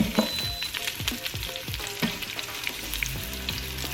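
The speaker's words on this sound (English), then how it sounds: "Now, we're going to add our onion that I've cut into quarters." Quartered onion sizzles in hot oil in a pressure cooker before short ribs are added: a constant, fairly loud frying hiss broken by repeated crackles and stirring knocks, with no speech.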